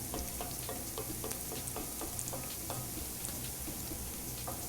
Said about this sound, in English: we're sautéing some ginger, some garlic, and some scallions